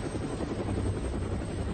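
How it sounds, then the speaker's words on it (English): A UH-1 Huey military helicopter flies with a steady, loud rotor and engine roar that fills the whole clip without a break, with no voices. "Equipped with UH-1 Hueys, the 1st Cavalry is designed to insert soldiers into combat using helicopters."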